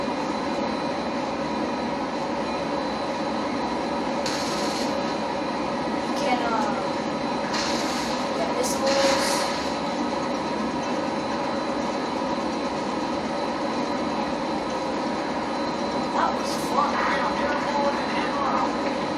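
A stolen fighter jet in Grand Theft Auto 5 drones with a steady, loud engine whine and roar that holds through the whole stretch, with a few brief bursts of higher hiss over it.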